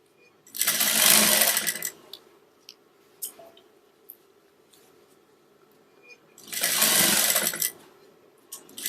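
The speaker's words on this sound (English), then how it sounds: "Until you get to the end and then back stitch again." A sewing machine runs in two bursts, each about a second long, as it stitches along a pillow zipper with cording. Quiet handling taps and rustles fill the gap between the bursts.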